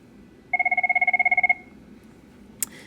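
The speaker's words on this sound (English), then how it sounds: "Ignore the ringing, sorry guys." An electronic telephone rings in one steady warbling burst of about a second, clear and prominent against a quiet room, followed by a brief click.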